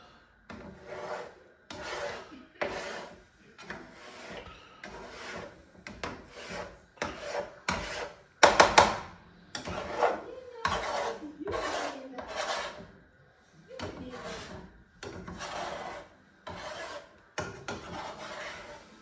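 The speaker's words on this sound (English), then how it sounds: "So when I'm pushing the eggs down and we're sticking, I am scraping a little bit." A spatula scrapes scrambled eggs across a hot pan for steak fried rice. The strokes are close, repeated and rhythmic, rasping and rubbing, with brief pauses between them and no voices.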